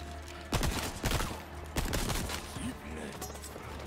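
Several bursts of gunfire ring out in Resident Evil 4 (Valkyrie mod), with sharp loud shots at irregular intervals amid game ambience.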